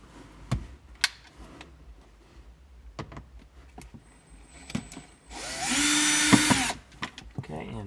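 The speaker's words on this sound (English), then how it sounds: "you can use a nut driver or just a screwdriver like that" A power nut driver buzzes loudly for about a second while removing screws inside a Land Cruiser cabin, after scattered clicks and taps of handling parts nearby.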